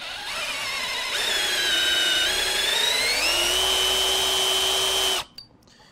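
An electric drill fitted with a countersink cutter bores into metal, a loud steady whine that rises in pitch as the cutter reaches depth and the load eases, running at full speed before cutting off abruptly.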